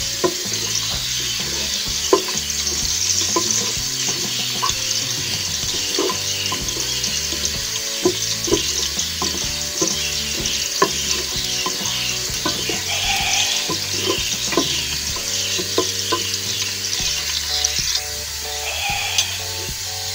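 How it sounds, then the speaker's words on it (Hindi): Garlic frying in a cup of hot oil for a red kidney bean masala, a steady close sizzle with bursts of crackle and stirring clatter running throughout, no talk. "ऑयल गरम हो चुका है, अब इसमें लहसुन डालेंगे।"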